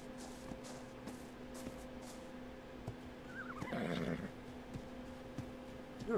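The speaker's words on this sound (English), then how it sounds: "Come here, horse." A horse in the video game ARK gives one loud wavering whinny in the middle of a quiet stretch, with a steady low hum and faint taps beneath it.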